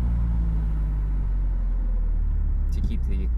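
BMW E46 M3 with SMG gearbox rumbling at low revs on a downshift in traffic, a deep steady engine drone close by with a brief burst of higher mechanical noise near the end.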